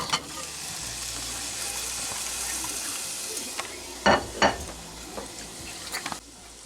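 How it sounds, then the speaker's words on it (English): Butter melting over onions in a hot pan gives a steady, close sizzle throughout, with a few sharper clattering knocks of a utensil near the end. "I add 3 spoons of butter. on my onions."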